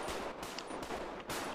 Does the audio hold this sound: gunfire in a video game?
yes